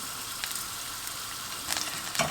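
Garlic frying in hot oil in a pan, a steady close sizzle with soft crackles and no voices.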